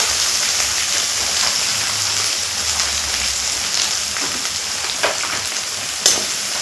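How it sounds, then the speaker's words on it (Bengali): Dried fish frying in hot oil in a pan, a dense continuous loud sizzle like rain with occasional scrapes and clinks of stirring near the end. "এই মাছগুলো আমি দিয়ে দেব গরম তেলে।"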